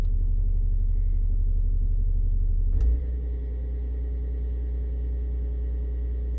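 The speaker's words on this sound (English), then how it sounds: "Running engine at idle speed." A BMW E70 X5 35d turbo diesel idles close up with a deep, steady rumble; a sharp click comes partway through, then the idle settles slightly quieter and smoother.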